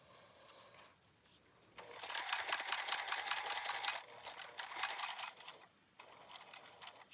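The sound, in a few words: sewing machine stitching around a curve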